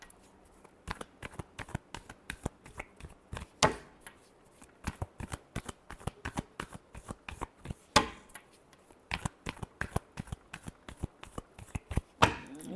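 Tarot cards are shuffled by hand in quick riffling bursts of crisp slaps and flicks, close and fairly loud, repeating with short gaps and no talk.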